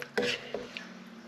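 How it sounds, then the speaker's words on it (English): A spoon stirs lamb and lentil soup in a pot, giving two or three quick, faint scrapes and knocks against the pot in a short burst. "Let's just give it a bit of a stir around."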